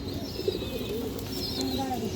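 A pair of pigeons cooing softly with low, rolling murmurs and a few faint higher calls at close range, over a steady background hum.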